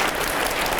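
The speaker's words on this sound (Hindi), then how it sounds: "जोरदार तालियां हो जाए, जोरदार तालियां।" A studio audience at a Hindi television debate show gives dense, steady applause. The clapping is close and sustained, with no talking over it.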